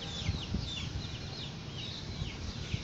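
Faint chickens and sick chicks clucking and chirping in a busy, noisy background, with repeated short calls scattered throughout at a distance.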